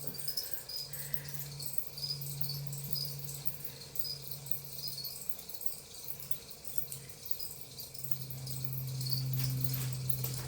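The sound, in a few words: crickets chirping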